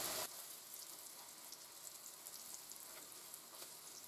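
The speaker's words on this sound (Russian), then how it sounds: "Обжариваю их с одной стороны, а затем переворачиваю и жарю до румяной корочки с другой стороны." Potato zrazy fry in vegetable oil in a pan, giving a steady, even sizzle and crackle heard close up with no voices.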